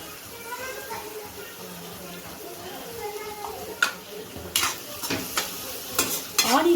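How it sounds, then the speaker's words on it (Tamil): Onions frying in a pan for egg podimas, a faint continuous sizzle with stirring, followed by a few sharp scrapes and clinks of a utensil against the pan; someone talks over it. "இப்போ ஆனியன் வந்து மீடியமாக ஃப்ரை ஆகிடுச்சு."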